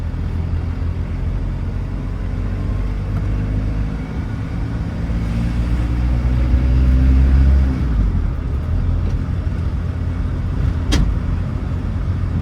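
Car back on the road after sitting abandoned for 15 years, cruising with a steady low rumble of engine and road noise from inside the cabin, rising slightly midway, with a brief sharp click near the end and no voices.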